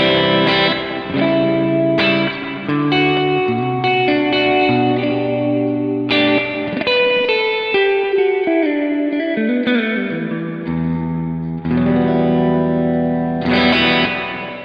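An electric guitar played through a Fender Little Blues amp with effects gives a distorted, chorus-tinged tone. It plays chords and melodic lines with reverb tails, loud and continuous throughout, with no talking.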